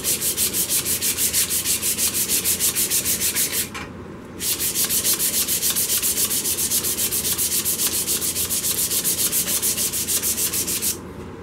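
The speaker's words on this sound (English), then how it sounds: "Like you're trying to sand it back off if you want, and that'll kind of blend it all together a little bit." Sandpaper rubs against a solid wood mug spinning on a lathe, making a close, rhythmic scratching with fast pulses that stops briefly once and then resumes.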